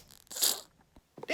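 A single short sneeze with a sharp burst of breath, close and fairly quiet, followed by a brief rustling crunch.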